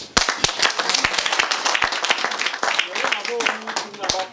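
Scattered, irregular hand claps from a group ring out in uneven bursts, with voices talking over and around them.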